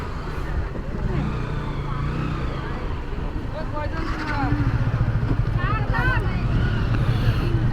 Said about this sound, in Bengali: এই যে নৌকাঘাটে আমরা নৌকা ভিড়াচ্ছে, এক এক করে এখন এক একটা নৌকা নামবে